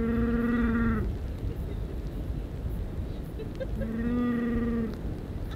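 Two drawn-out sheep bleats a few seconds apart, loud and close, over a continuous rumbling background noise, at Curio Bay, New Zealand.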